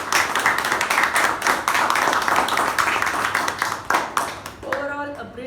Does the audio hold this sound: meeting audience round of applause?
yes